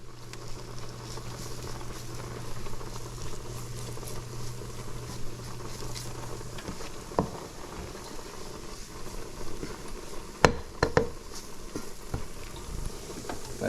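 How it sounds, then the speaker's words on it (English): Lobster and shrimp curry simmers and fries in a pan, a low steady bubbling and sizzle with a faint hum, broken by a few sharp clicks and taps of utensils. "Now we're going to let this curry cook"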